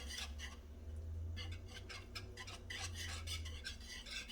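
Bourbon barbecue sauce being whisked gently in a pot as it simmers, a steady scraping and stirring with repeated rhythmic strokes over a low hum, close and fairly quiet.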